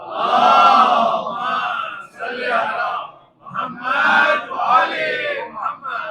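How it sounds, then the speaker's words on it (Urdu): A festive gathering's crowd loudly recites salawat in unison, a dense mass of voices chanting together in long swelling phrases with a brief pause midway, loud and close throughout. "ایک جشن والی صلوات پڑھیے باواز بلند صلوات۔"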